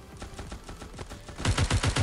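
Heavy weapon firing in the Gods of Boom shooter game, a steady stream of rapid shots that grows louder and punchier toward the end, with no speech over it.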